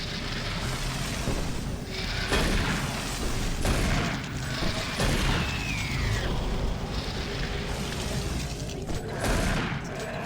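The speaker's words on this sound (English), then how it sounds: "We'll just use our shotgun for old time's sake." A shotgun fires in the PC shooter Doom 3 BFG Edition on the monorail level. Heavy booming blasts ring out over a dense, loud game soundscape that never lets up, with no voices.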